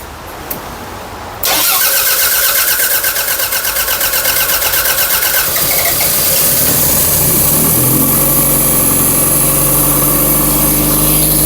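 A rebuilt Toyota MR2 Turbo engine, being prepared for about 500–600 horsepower, cranks briefly and then fires into a loud, steady idle that holds close by, with a slight drop in pitch toward the end.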